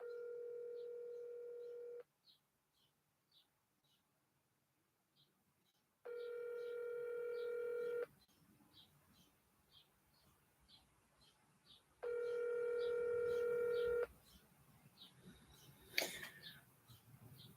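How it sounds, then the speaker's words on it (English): A phone call rings out with three long, even ring tones separated by quiet gaps, a faint chirping pattern continuing in the background throughout. "I'm going to hit this call and see if I can actually get him on the phone."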